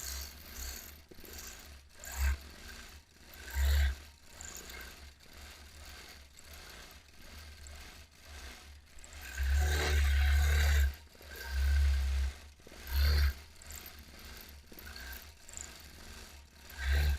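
A sewing machine stitches a free-motion palm-leaf quilting design. Its whirring runs in uneven bursts, with quieter stretches broken by louder, faster runs and brief stops. It is heard up close, with no talking.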